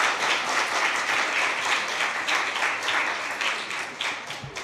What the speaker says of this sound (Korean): 박수 치자고요? 좋아요.